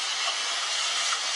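A pot of Jamaican-style oxtail gives off a steady, even hiss close by, as if steaming while being stirred, with no voices.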